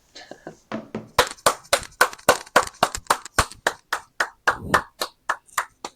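Hands clap in a steady series of sharp, loud claps, about twenty in a row, speeding up slightly partway through.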